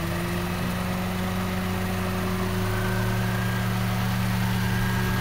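A used car's engine idles steadily with its AC compressor running normally, a loud, even hum with a constant drone and no knocking or ticking throughout.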